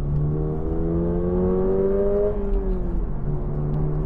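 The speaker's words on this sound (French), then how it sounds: "Alors on entend déjà le son du moteur, en partie généré par les haut-parleurs de la voiture." Toyota GR86 engine pulling hard on a small country road, a steady droning note that climbs in pitch, then eases off and settles, partly enhanced through the car's speakers, loud and continuous with no voices.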